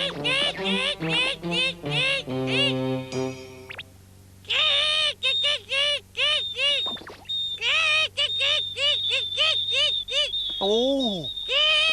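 A cartoon character's voice imitates bird chirping in an animated Moomin episode, repeating quick, high, rising chirps in bursts with a short pause midway, over a steady musical backing.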